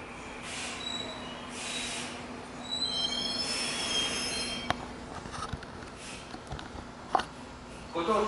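Train wheels squeal loudly as a train rolls into Nabari Station in Japan, with metallic screeching and clanks over steady rumbling track noise.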